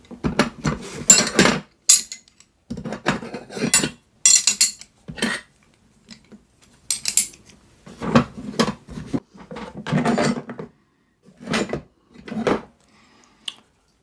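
Metal wrenches from a toolbox, including a small kit wrench and an open-end wrench, are handled close up in a quiet room, clinking and clattering in short irregular bursts separated by silent pauses.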